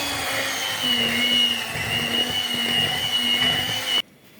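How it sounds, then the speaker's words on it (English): Cake batter made from scratch is whisked with an electric mixer, a loud, steady close motor whine that runs without a break and then cuts off abruptly at the end. "Anyway, just whisk it."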